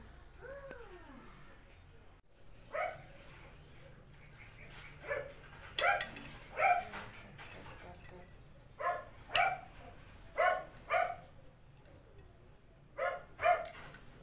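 A dog barks in short bursts, several sharp barks spaced irregularly, fairly close, over a murmur of background chatter.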